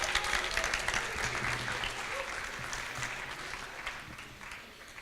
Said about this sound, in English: A round of applause for the staff and the Elections Committee.